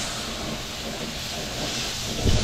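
A pot of carrots and potatoes with peas and raisins boils on a catering stove, giving a steady broadband hiss and bubbling roar, fairly loud and continuous with no talking.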